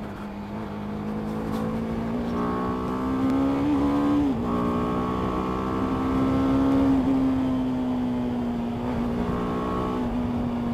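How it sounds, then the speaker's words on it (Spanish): BMW G 310 R single-cylinder motorcycle engine revving up and settling back, a steady loud engine note with several rises and falls in pitch, close by and without speech. "Se escucha muy ronco, muy parecido a KTM, a mí se me hace."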